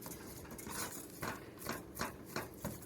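A spatula stirs butter into colcannon potatoes in a pot, giving soft scraping and mushy squelches with several sharper scrapes against the pan at an uneven rhythm. The sounds are close and fairly quiet, with no talking.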